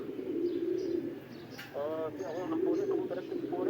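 Pigeons landing give a few soft, warbling coos over a steady background hum, close by and moderately loud.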